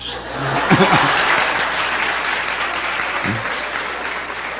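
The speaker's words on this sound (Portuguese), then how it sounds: "Essa merece aplausos." An audience at a lecture on sexuality and spiritual obsession breaks into applause, a broad steady wash of clapping, with a voice briefly audible over it near the start and again later.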